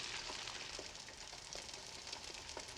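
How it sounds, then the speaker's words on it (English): Eggs fry in a frying pan with a soft, continuous sizzle and faint crackling pops, quiet and steady with no talking. "Looks like a frying pan and some eggs to me."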